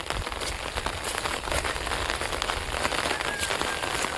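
Rain falls steadily in Mumbai, a loud, even hiss of drops pattering on surfaces close by, with water running off toward a drain, continuing without pause and no voices.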